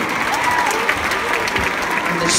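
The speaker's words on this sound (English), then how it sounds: "Yourselves a round of applause." A concert crowd at a summer tour show in Edinburgh breaks into loud, sustained applause and cheering, a thick, steady roar of clapping.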